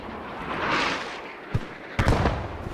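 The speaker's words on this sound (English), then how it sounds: "Mantis just sniped the medic with a mortar." Mortar shells burst in Squad 44, a World War II battlefield game: a rushing swell, then two sharp, booming impacts about half a second apart, moderately loud at mid distance with a rolling tail, no speech.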